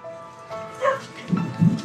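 A neighbour's dog gives a couple of short, fairly close barks and whimpers outside a small house, with faint indoor talk in the background.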